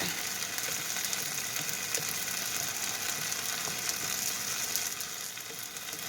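Eggs fry in a very hot non-stick skillet on high heat, giving a steady, fairly quiet crackling sizzle that holds throughout.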